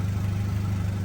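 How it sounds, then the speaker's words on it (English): A car fitted with an S&B intake idles after a cold startup, a loud, low, steady engine drone with a fast even pulse, heard close and alone. "Cold startups on this thing, they're pretty noisy"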